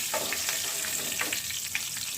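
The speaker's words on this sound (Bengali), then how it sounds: "তেলের মধ্যে দিয়ে দিচ্ছি অল্প করে কালো জিরা আর 2টো কাঁচা লঙ্কা। এটাকে আমি 30 সেকেন্ডের মতো একটু ভেজে নিচ্ছি।" Black cumin and green chillies crackle and hiss in hot oil, a short, bright sizzle with scattered pops.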